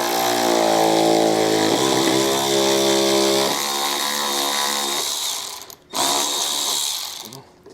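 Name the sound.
power tool removing a 10mm bolt from wheel well liner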